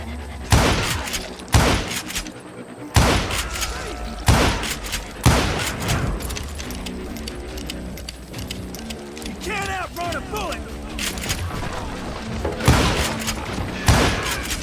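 Gunfire in the Wild West shooter Call of Juarez: Gunslinger: sharp shots ring out one at a time, loud and close, spaced a second or two apart, with thuds and a voice in between.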